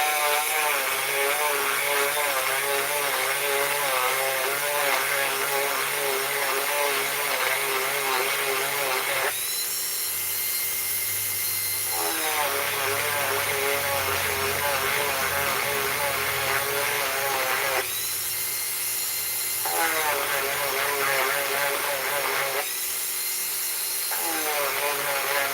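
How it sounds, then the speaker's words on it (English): A Dremel rotary tool sands the center of a silver dollar coin ring, a loud continuous high whine that dips briefly twice as the bit lifts off the metal, with no talk. "So I'm going to do that with a Dremel tool."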